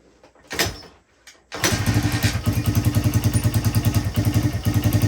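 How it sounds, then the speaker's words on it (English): A 1985 Honda XR100 motorcycle being started after a couple of thumps, then its small single-cylinder engine idling with a fast, even, pulsing putter, loud and close, with no talk. "Oh, almost wants to idle on its own."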